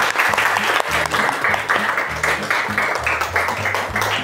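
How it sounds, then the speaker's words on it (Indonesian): Classroom applause for a student during a lesson, steady close clapping from many hands for several seconds, with a voice talking over it in the background. "Ya, tepuk tangan untuk Ria."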